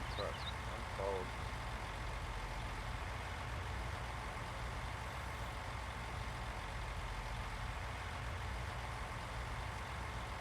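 A truck engine in the video game Ghost Recon Wildlands idles with a low, steady drone, holding a constant level throughout and heard alone.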